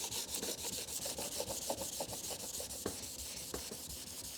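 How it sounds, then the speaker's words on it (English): An 800 grit sanding block is rubbed by hand over a black Chevy car hood in quick, regular back-and-forth strokes, a faint, close, rhythmic rasping with no talking. "Then we have to get our 800 grit and our sanding block."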